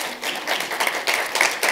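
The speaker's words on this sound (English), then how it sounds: "Give yourselves a round of applause." Audience applause at the St. Anne's Family Services annual summit in Los Angeles, a short, moderately loud spell of clapping that rises and falls in uneven bursts across the room.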